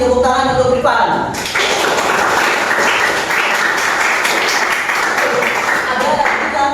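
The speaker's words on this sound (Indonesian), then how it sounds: "Tepuk tangan untuk Rifan." Classroom applause at a junior high school history lesson: a crowd of students clapping steadily for several seconds, close and fairly loud, with voices mixed in at the start.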